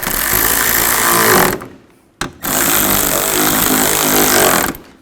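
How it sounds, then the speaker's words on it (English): Loud bursts of a power tool ratcheting as three bolts are tightened while replacing the radiator on a 2011-15 Kia Sorento, two long runs split by a brief pause and a short blip, no talking. "Put the 3 bolts in. Tighten these down."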